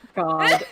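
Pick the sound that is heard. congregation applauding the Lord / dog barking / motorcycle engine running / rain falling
dog barking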